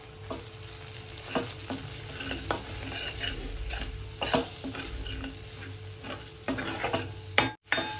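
Malvani masala for prawn masala is stirred in a pan: a soft steady sizzle of frying under repeated scraping strokes of a spoon against the metal, close and fairly quiet, with no talking.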